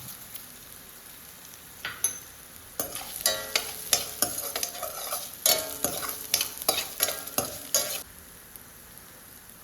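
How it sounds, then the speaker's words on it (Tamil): Ginger and coriander sauté in a pan for chutney, a quiet sizzle at first, then a run of quick, bright scraping strokes as a spatula stirs repeatedly, close up with no talk. "நல்லா கிளறி விட்டுக்குவோம்."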